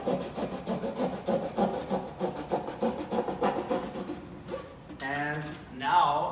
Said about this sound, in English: I'm pushing the blade up and down using the full length of the blade as possible